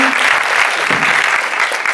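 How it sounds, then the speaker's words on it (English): Audience applause at a Miami Film Festival Q&A for writer-director-star Annapurna Sriram, a steady dense wash of many hands clapping throughout, with a brief voice near the start. "Another round of applause for the writer, director, star, Annapurna Sriram."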